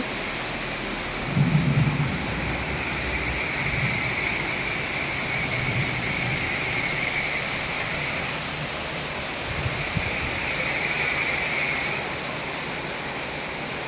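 Heavy rain pours onto a street in Uttara, Dhaka, a dense, continuous hiss that stays steady throughout, with faint low rumbles underneath and no voices.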